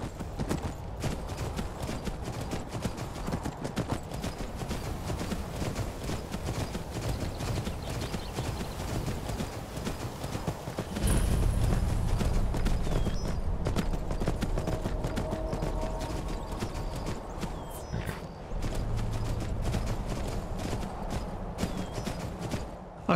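Horse hooves in Skyrim clip-clop in a quick, steady rhythm throughout, growing heavier and louder partway through, with no talking.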